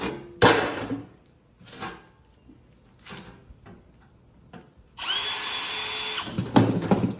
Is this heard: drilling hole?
yes